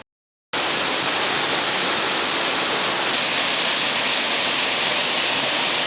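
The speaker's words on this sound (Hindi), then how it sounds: "और कुछ देर ट्रैक करने के बाद हम आखिरकार पहुंच गए देवी पिंडी वाटरफॉल।" The Devi Pindi waterfall in Jammu roars as a dense, constant broadband rush that starts abruptly after a half-second of silence and holds steady and loud, with no voices.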